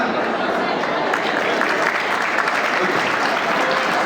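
An audience breaks into applause at a talk, a steady, dense crowd of clapping hands that stays loud and even throughout.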